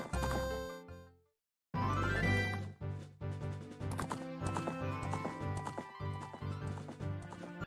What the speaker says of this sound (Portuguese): Você pega o cavalo e vaza.